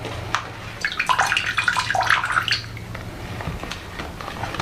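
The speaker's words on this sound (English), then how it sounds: "I'm really going to drench the soil until it runs out the bottom." Water poured over soil in a potted Pink Princess philodendron, splashing and trickling continuously at moderate volume, with small drips as it drains through the pot.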